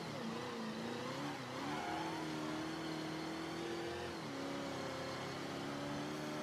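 Car engine in Mafia III pushed at full throttle, a sustained rising engine drone that shifts pitch as it climbs through gears, steady and moderately distant with no talk over it.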